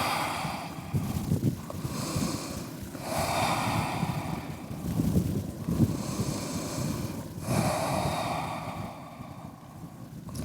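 Slow, deep breaths held in a power yoga pose, each long inhale and exhale rising and falling in a steady rhythm, close and clear, with no talking.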